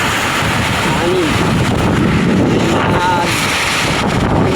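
Strong wind buffets the microphone outdoors in an afternoon gale, a loud, continuous roaring rush with gusty low rumble and no pauses.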